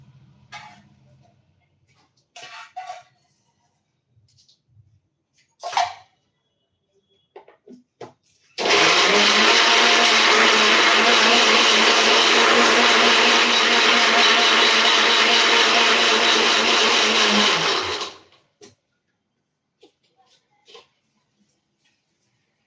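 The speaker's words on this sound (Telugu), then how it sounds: "మెంతులు సోక్ చేసిన వాటర్ లైట్గా వేసుకొని బ్లెండ్ చేసుకోవాలి" A blender grinds herbal hair-oil paste of green herbs with fenugreek-soaked water, roaring loudly and steadily for about ten seconds before cutting off, with scattered clicks and handling noises before and after.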